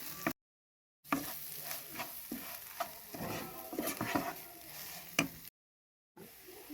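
Coriander and chili powder being stirred into a pan of Kerala-style nadan chicken roast: soft scraping and stirring strokes over a faint, low sizzle, fairly quiet, with two brief silent gaps.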